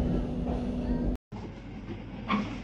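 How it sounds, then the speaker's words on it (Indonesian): KA Fajar Utama train pulling out of Cirebon station, a steady low rumble of the carriage with a tonal hum, briefly cut, then resuming with faint rattling and a soft tone. "ketika kereta sudah mulai meninggalkan stasiun Cirebon"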